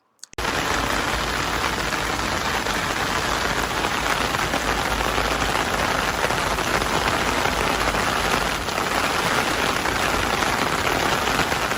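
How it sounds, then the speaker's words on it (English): Heavy monsoon rain pours steadily in Japan during a cross-country cycling trip, a dense, loud and unbroken roar of water hitting surfaces close by, with no voices and only a brief dip partway through. "The rain started and did not stop."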